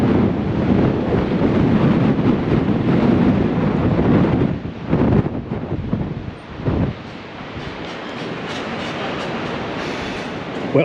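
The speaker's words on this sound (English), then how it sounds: "Oh, it's windy." Strong wind on the El Caminito path buffets the microphone in heavy, roaring gusts, easing slightly toward the end into a steadier rush.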